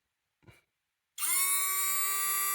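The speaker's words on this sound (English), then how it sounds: "Next up is a washer pump" An automotive windscreen washer pump starts after a brief soft knock, then runs as a loud, steady, high-pitched electric whine right to the end, with no voices.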